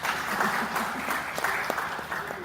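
Audience applause at a talent summit, a steady wash of clapping from a moderate crowd with a few sharper individual claps, moderately loud and continuous throughout.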